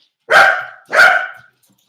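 A dog indoors gives two loud, close barks about half a second apart, then falls silent.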